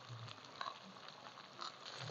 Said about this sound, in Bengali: চিকেন আগে ফার্স্টে ভেজে নিচ্ছি আমরা